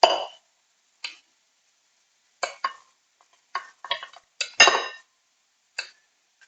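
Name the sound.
breaking up cooked couscous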